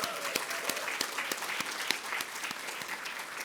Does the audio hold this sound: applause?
yes